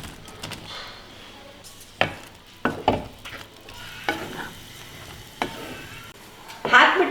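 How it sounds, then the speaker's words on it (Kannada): Fried soya chunks tumble into a bubbling sauce for soya manchurian, followed by irregular spoon scrapes and clinks against the pan over a soft, steady sizzle, close up and intermittent. "ಈಗ ಫ್ರೈ ಮಾಡಿರೋ ಸೋಯಾ ಚಂಕ್ಸ್ನ ಹಾಕೋಣ."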